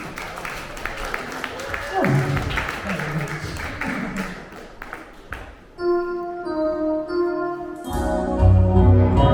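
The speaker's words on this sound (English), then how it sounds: "Hands together, start clapping for Rebecca Dean." Audience applause at an evening show at the Imperial hotel, clapping and cheering mixed under a voice in the first part, giving way to music with sustained tones in the second half.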